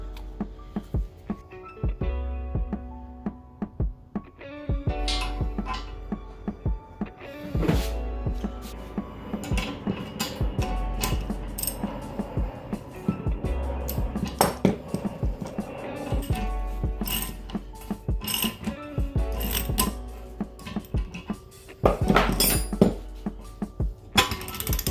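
Metal knocks drive a polyurethane bush into the rear axle flange of a Mk1 Rabbit, with repeated clinking hammer taps in irregular bursts, close and moderately loud, no talk.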